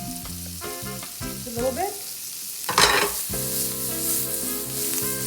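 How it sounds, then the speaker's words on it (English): Shallots and garlic sauteing in a pan of butter mixed with oil, a steady close sizzle with stirring scrapes and brief clatter, while a person speaks briefly over it. "Little butter. I like to mix it with a little bit of oil. The butter won't be burning it. Saute some shallots, some garlic,"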